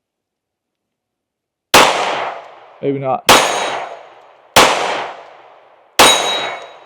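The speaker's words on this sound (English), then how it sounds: "We're going to shoot it right-handed for the sake of my thumb." Four sharp, loud pistol shots from a Kimber R7 Mako Carbon Compact fired right-handed, spaced about a second apart, each with a ringing decay, and a brief spoken remark between the first and second.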